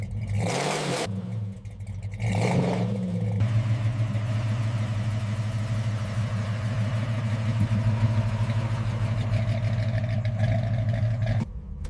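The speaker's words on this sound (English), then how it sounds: "Listen to the roar of that 440 big block." The 440 big-block V8 of a 1969 Dodge Charger roars up close, rising through a couple of throttle blips and then holding a loud, steady rumble with clattering overtones that ends abruptly.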